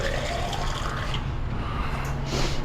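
Water pours from a 16-ounce bottle into a pot of chili sauce made with tomato sauce and seasoning. The result is a steady, splashing liquid rush that runs for a few seconds.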